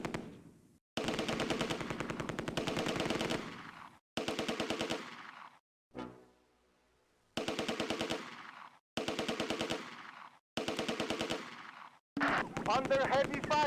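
Sustained bursts of MG42 machine gun fire in the Close Combat war game, long rattling volleys broken by short pauses, with a faint distant blast in one gap and scattered battle noise near the end.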